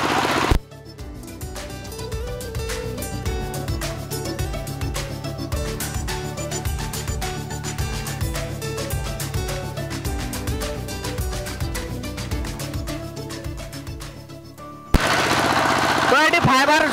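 A Model v4 crispy chips-making machine runs with a loud, rapid mechanical clatter like fast repeated knocking that holds steady for about fourteen seconds, then gives way abruptly to a different noisy sound.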